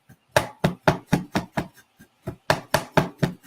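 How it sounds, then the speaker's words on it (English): A small knife chops fresh turmeric root in quick, even strokes, about a dozen crisp taps in two bursts with a short pause between, close and clear. "So this is turmeric, and this little knife, you can take a smaller knife. It doesn't have to be that big. And I'm just chopping it."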